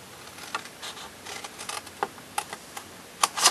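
Scissors snip through paper while a lidded paper box is being made, a close series of short crisp cuts that come in irregular bursts and grow quicker near the end.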